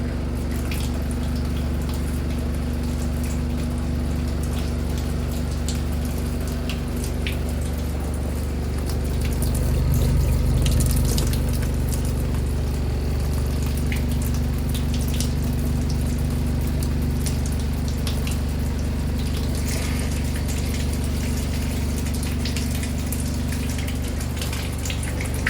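A Daewoo DW900C dishwasher fills with water for its rinse cycle, giving a continuous low pump hum and steady water rush with faint drips, swelling briefly midway, with no one speaking.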